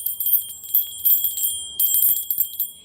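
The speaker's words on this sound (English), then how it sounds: "I am going to ring a bell." A small bell is rung repeatedly in quick, uneven strikes, bright and close, each ring leaving a sustained high shimmer.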